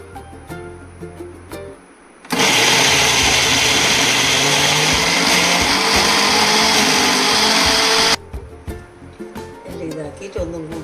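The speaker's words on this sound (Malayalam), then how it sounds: "ഇനി അരക്കുക." An electric mixer grinder whirs loudly and steadily for about six seconds as it grinds dried shrimp chutney with chili powder, cutting in and out abruptly, with talking before and after.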